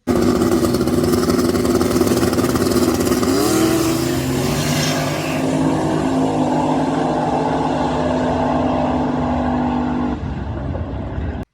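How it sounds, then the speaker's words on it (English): A Pro Street drag race car at a no-prep drag racing event makes a pass, its engine roaring loud and steady, shifting gear partway through, then easing off toward the end as it runs on past. "Car made a killer pass, really. Clean A to B."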